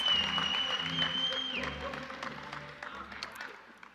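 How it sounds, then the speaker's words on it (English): A crowd claps and cheers in a room at a graduation ceremony. The applause is loudest at the start, then gradually fades over a few seconds. "Can we have a round of applause for all Unitech Training Academy New Orleans Campus"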